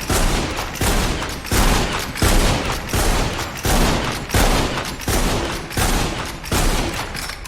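Video game gunfire with weapon recoil: dense, loud bursts of automatic fire repeating in rapid clusters throughout, with no voices.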